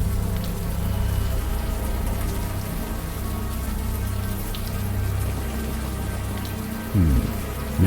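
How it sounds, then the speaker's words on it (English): Warm rain falling in the video game Unavowed, a steady, even wash of drops close by that carries on alone with no talk, with a brief low rumble near the end. "the warm rain is coming down"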